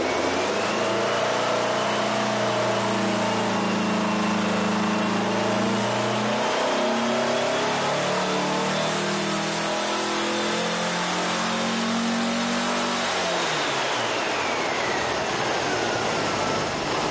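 A VW 1776 engine fitted with Weber IDF carburetors revs on a dyno, its loud, continuous note climbing steadily in pitch through a long pull before easing off near the end.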